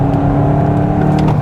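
A VW Mk8 Golf GTI Clubsport with a DSG gearbox runs hard on a track. The engine drones steady and loud with strong low harmonics, and it pulls on in third gear without any break in the sound.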